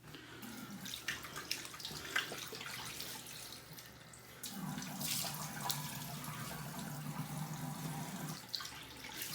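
A bathroom tap runs while someone washes their face, producing a soft continuous stream with splashing and brief drips, a fuller flow in the latter half, heard close and fairly quiet with no talking.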